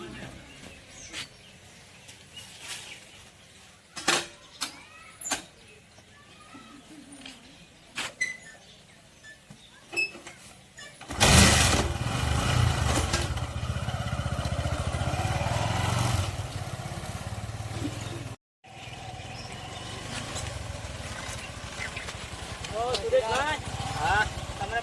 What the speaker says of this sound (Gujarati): આ દેખ, આ નવી ફિફ્ટી સ્પેન્ડલ બાઈક છે